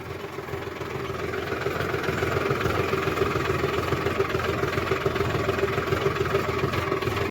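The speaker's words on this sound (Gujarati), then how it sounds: "આપણું બીજું ટ્રેક્ટર હાલીને આવી ગયું છે." A tractor engine idles steadily, a deep, even rumble with a faint knocking pulse that grows slightly louder at first and then holds constant, close by and with no talking.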